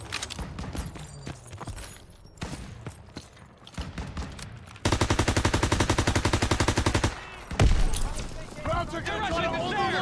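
Sustained machine gun fire in Call of Duty WW2 during the Stronghold assault: scattered shots first, then a loud steady rattling burst of rapid rounds for several seconds, followed by shouted voices.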